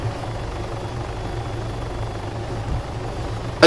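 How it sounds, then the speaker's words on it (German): A helicopter in the video game Arma 3 gives off a steady, loud, low rotor-and-engine drone that holds even throughout, with no voices over it. "Da eben gerade welche mit Heli gestartet"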